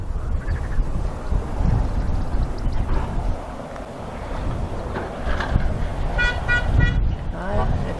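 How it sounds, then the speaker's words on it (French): A passing car sounds its horn three times near an Armenian church in Armenia, short toots over traffic rumble and voices talking nearby. "Si vous voyez une voiture qui arrive là, vous voyez, là, celle-là, là, elle va klaxonner 3 fois."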